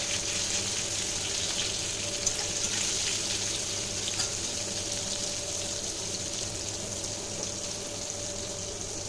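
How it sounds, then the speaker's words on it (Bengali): Water pours steadily into a mixer grinder jar, a continuous close hissing flow lasting several seconds without pause, with no one speaking. "এই মিক্সির বোলটার মধ্যে একটু জল দিয়ে দিলাম"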